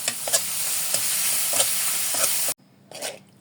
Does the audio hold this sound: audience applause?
no